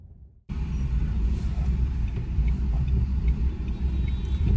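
A car moving slowly through heavy city traffic, a steady low rumble of road and engine noise heard from inside the cabin after a brief quiet moment.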